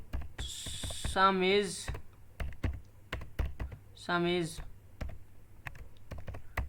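Code is typed on a computer keyboard in a lesson on copy constructors in object-oriented programming, with close, irregular clicking keystrokes in quick bursts and pauses, interrupted twice by brief spoken words.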